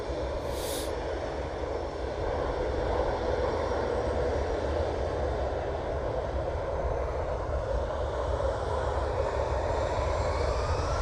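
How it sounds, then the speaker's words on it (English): An EasyJet airliner in raccoon livery departs with a steady, broad jet roar that holds at moderate distance and stays even throughout, with no voices. "Oh, we've got the EasyJet with the raccoon livery as well"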